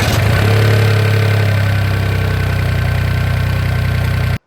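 A Toyota GR Yaris engine runs right after an oil change, a loud close steady idle with a throbbing low rumble that settles after a brief higher rev at the start, then cuts off abruptly.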